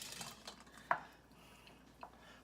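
A spoon stirs cooked clams into a pot of New England clam chowder, a quiet scrape with a couple of light metallic clinks against the pot.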